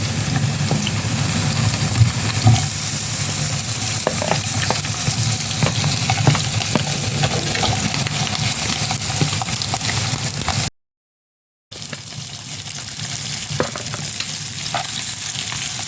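Cut beef offal, spleen and tripe, frying in a pan: a dense, continuous close sizzle with scattered crackles and stirring scrapes, no voices.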